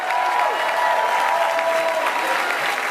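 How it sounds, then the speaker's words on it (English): Sustained audience applause fills a large room, dense steady clapping from many hands at an even level throughout, with faint crowd murmur underneath. "give them a round of applause"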